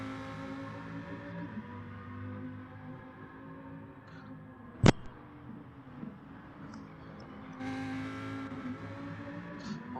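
Lamborghini race car engine in Gran Turismo Sport, a faint, steady mechanical drone with a single sharp click partway through and a slight lift in intensity toward the end.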